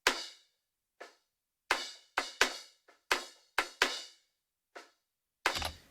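A kick drum, 26-inch, miked from out in front of the head with a D12 and the low end pulled out, giving a thin, knocky high-end thud; about ten separate hits at uneven spacing, dry and close, with no voices.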